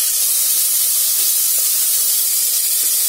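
Onion, tomato, green chili, cinnamon, clove and bay leaf sautéing in a pan for agathi keerai soup, giving a steady broad hiss and sizzle that holds evenly throughout with no talk.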